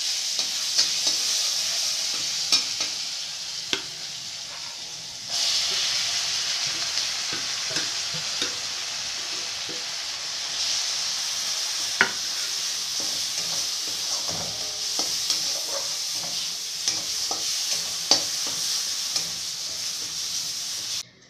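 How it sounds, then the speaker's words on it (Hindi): Ground spices, onion, coriander powder, chili and turmeric fry in a pan, giving a constant loud sizzle and hiss with scraping and stirring clatter throughout, close up and uninterrupted by voices. "ई सबटा मसाला सब भूज रहल छै"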